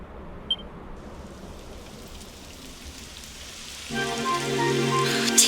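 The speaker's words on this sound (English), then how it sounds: "It would have to go and start raining, wouldn't it?" Rain falls in Dragon Quest XI as a steady, soft hiss that thickens over a few seconds, joined near the end by a sustained tonal musical layer, with no voices.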